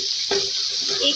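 Ginger garlic paste spits and sizzles in hot oil in a pan, a short bright hiss with a brief stirring scrape, close and fairly quiet.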